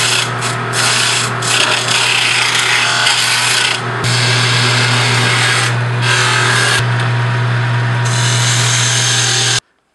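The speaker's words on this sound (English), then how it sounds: "I go to my small detail gouge and remove some material." A small detail gouge cutting into wood spinning on a lathe, a loud, steady rasping scrape with a constant motor hum underneath, shifting in texture as the tool moves, then stopping abruptly at the end.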